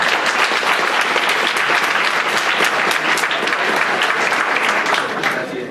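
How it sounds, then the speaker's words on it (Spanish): A university audience at the Corporación Universitaria Republicana gives a strong round of applause welcoming the vice-rector, loud sustained clapping from many hands that holds steady throughout and eases slightly at the very end. "Recibámoslo con un fuerte aplauso."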